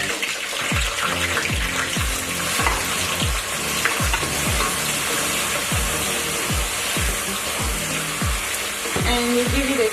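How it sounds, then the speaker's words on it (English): Food fries in hot oil in a pot and is stirred constantly, producing a dense, loud sizzle punctuated by a regular series of scraping strokes. "you want to constantly stir just so it doesn't burn under"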